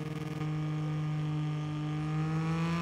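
Moto2 motorcycle engine idling and revving in the pits of MotoGP 23, with a steady tonal engine drone that rises slightly after a brief pulsing start, loud and close with no voices.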